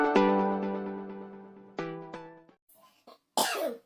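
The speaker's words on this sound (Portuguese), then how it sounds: "desculpa aí que eu tô com uma tossinha." A single cough rings out loud and close, followed by a couple of quieter throat sounds and a short breathy burst at the end.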